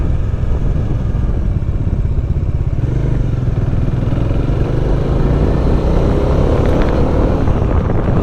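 A motorcycle engine drones steadily nearby, with a continuous low rumble and some road noise, no voices.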